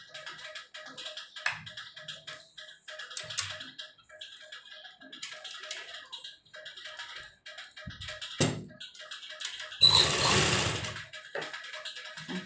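A sewing machine runs in short bursts while elastic is stitched into the folded waistband of a baby combination suit, with intermittent ticking and tapping, some handling noise and a louder whirring run near the end.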